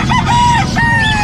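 Inside a busy Philippine animal market, a rooster gives a short, loud crow among clucking chickens, over a constant background of market hubbub.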